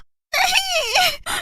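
A woman lets out a drawn-out scream of shock, loud and close, wavering in pitch for about a second before breaking off into a brief second cry.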